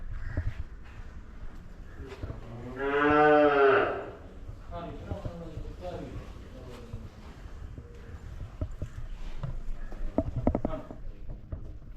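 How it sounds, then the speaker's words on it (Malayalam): A Vechur cow gives one drawn-out, fairly loud moo lasting about a second on a farm, with people talking quietly nearby before and after. "എന്താ അടുത്തൊരു വെച്ചൂർ പശുവാണ് ഇവിടെ"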